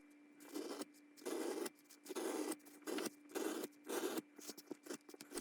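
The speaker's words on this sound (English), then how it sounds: "then follow the lines with a groover" A freehand groover cuts leaf-vein lines into thick leather in a series of short, raspy scraping strokes, roughly eight of them separated by brief pauses, close and moderately loud over a faint steady hum.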